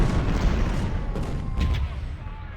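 Artillery batteries fire in the Civil War strategy game Ultimate General, with deep booms rolling over one another and a couple of sharper cracks near the end.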